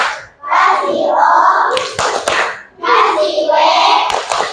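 Children in a classroom play a clapping game, with bursts of rhythmic hand claps mixed with loud group chanting and shouting, in two long waves separated by a brief pause.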